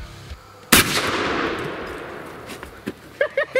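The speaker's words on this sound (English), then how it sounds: "I want to shoot a fire extinguisher now." A single loud muzzleloader rifle shot rings out at a fire extinguisher, a sharp close blast followed by a long decaying rumble and spray, with brief voices at the end.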